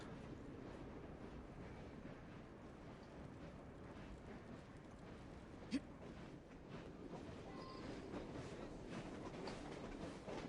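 A train in Assassin's Creed Syndicate rumbles along in a steady, low, continuous roar with faint rhythmic clatter. A single sharp metallic clank stands out partway through.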